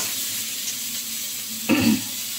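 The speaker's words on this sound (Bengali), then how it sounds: "যেহেতু আমি কম তেল খাই, সেহেতু পটলগুলো আমি একটুখানি ভেজে নেব।" Pointed gourd (potol) frying in a small amount of oil in a pan gives a steady close hiss and sizzle, swelling into a louder crackling burst near the end as the pieces are stirred.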